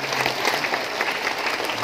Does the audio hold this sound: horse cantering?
no